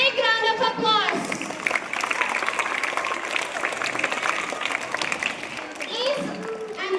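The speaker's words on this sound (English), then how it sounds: "students to give a big round of applause." Students at a school education event in Hyderabad give a big round of applause, a dense sustained wash of clapping lasting several seconds, with a speaker's voice heard just before and after it.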